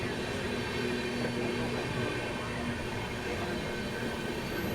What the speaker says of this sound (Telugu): హిసార్ నుండి సికింద్రాబాద్ ఎక్స్ప్రెస్ మన మౌలాలి రైల్వే స్టేషన్ దగ్గర మీటప్ అవడం జరిగింది